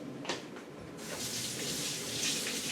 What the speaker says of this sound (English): I'm just going to run to the sink and give this a little rinse.